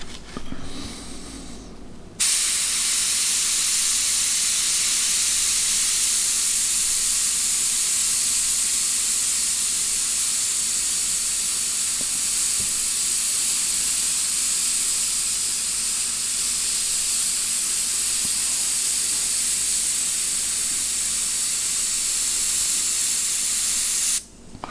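An airbrush sprays paint along a wiggly line, a loud steady close hiss of air that starts abruptly after a short quieter moment and runs unbroken before cutting off at the end.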